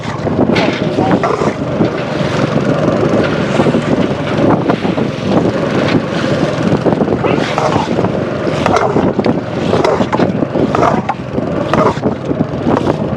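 Strong storm wind gusts across the middle of a wide river, a loud, steady roar of buffeting and rushing air that fills the whole stretch without a break.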